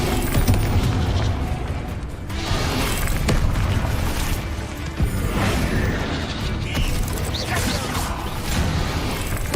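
Bombarda blasting spell explosion in the Hogwarts Legacy video game, with a dense, roaring, booming barrage of blasts and crashes filling the whole stretch, loud and continuous.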